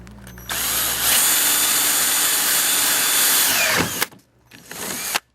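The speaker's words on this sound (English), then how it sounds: "So I'm about to drill a hole" A power drill bores a hole, its motor whining loud and steady for several seconds, stopping, then a short second burst before cutting off.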